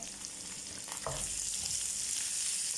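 Garlic and ginger hit very hot oil in a pan with cauliflower and are stirred. A loud, close sizzle swells after a brief clatter of stirring, then continues as a dense, steady crackle.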